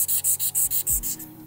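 Steel sword blade being hand sanded near the fuller, heard as eight quick, even rasping strokes in a steady back-and-forth rhythm, close and alone, ending with a low thump.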